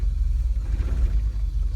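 A Ford Transit Autosleeper motorhome engine idles with a steady, heavy low rumble as the gearstick is shifted into reverse, close and continuous with no distinct gear clunk.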